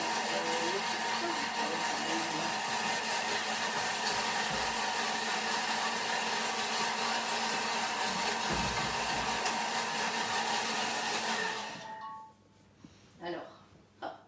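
A Thermomix TM6 food processor blends a batch for a mango-passion cake with a loud, steady whirring roar for about eleven seconds, then cuts off, leaving a few faint handling sounds.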